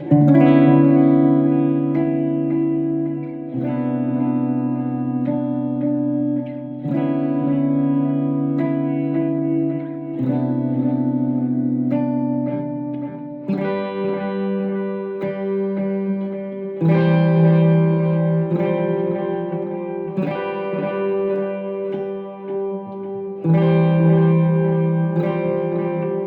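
Sustained electric guitar chords with echoing repeats trailing each strum, changing roughly every few seconds, loud and continuous with no talking.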